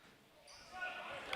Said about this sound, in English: You could also hear the ball unfortunately hit off the rim.